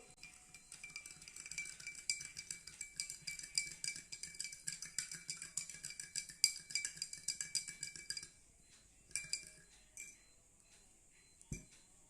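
A metal spoon stirs citric acid solution in a glass, making quick, steady clinking and scraping against the glass for several seconds, then a few scattered taps before stopping.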